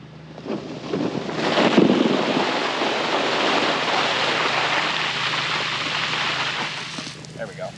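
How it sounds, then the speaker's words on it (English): Irrigation sprinklers on a hay field begin spraying as water pressure builds, a broad, steady hiss that rises and then holds, with some wind buffeting the microphone and brief talk nearby. "Now the sprinklers are gaining pressure."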